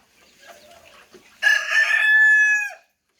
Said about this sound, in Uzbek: Har bitta xo'roz.